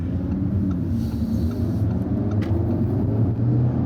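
A car drives over a very bumpy road, giving a steady close interior rumble with low road thumps and no talk.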